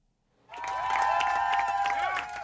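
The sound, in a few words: staff cheering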